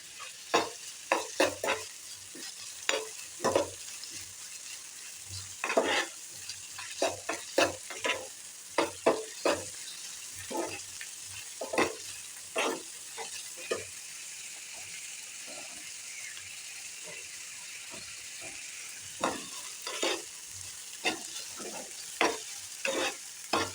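Tomatoes frying in a pan for a Konkani recipe, a soft sizzle punctuated by frequent irregular scraping and knocking strokes of a spoon stirring throughout, no one talking.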